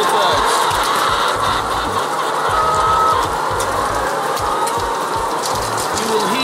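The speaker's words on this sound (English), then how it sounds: "all you'll hear are birds singing and talking away" Hens cluck and chatter inside a colony house, many birds making short repeated calls over a constant hum.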